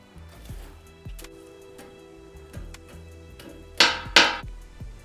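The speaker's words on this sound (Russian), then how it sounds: "Лук, которым я буду посыпать мясо, я нарезаю максимально тонко" A knife thinly slicing onion on a board at an outdoor lamb shashlik cook, with soft regular taps and two sharper louder cuts near the end, close and quiet.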